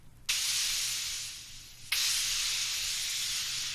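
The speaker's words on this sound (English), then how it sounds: "It was the radiator." A radiator hisses in two steady bursts of bright, airy steam noise. The first starts abruptly and slowly weakens, then after a brief cut the second begins sharply and holds steady. No voices.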